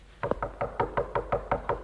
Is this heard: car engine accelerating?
no